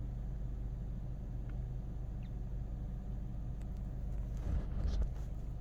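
A car engine idling with a low, uneven rumble as if close to stalling, steady and muffled throughout, with a slightly rougher swell near the end and no speech.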